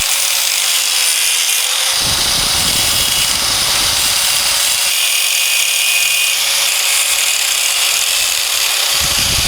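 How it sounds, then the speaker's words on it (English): An Audi TT cover being cut out close to its mount with a power tool, giving a loud, continuous abrasive grinding and sawing noise that surges in bursts with no talk. "So we're gonna have to cut that out, and we're gonna do it as closely to the mount as possible"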